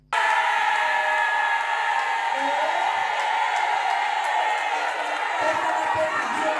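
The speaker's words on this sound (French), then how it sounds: "Constance Mbalabou, a pris la parole devant une salle remplie de femmes et filles des militaires sous les acclamations" A hall full of women and daughters of military personnel cheering at a campaign event for a candidate ahead of a December 20 election, a dense continuous roar of voices and whoops, loud and sustained.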